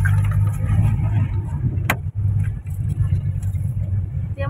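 A car driving on a rough road, with a steady low engine rumble and road noise throughout, close and continuous, with a brief sharp knock partway through.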